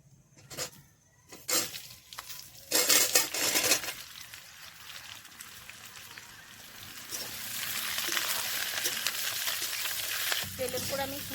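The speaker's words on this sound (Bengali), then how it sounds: "এবার ফুলটা দিয়ে দিচ্ছি তেলের উপর" Hot oil sizzles in a pan while bay leaf and tempering spices fry for homemade kul (jujube) pickle. Early utensil clatter gives way to a steady, growing frying hiss toward the end.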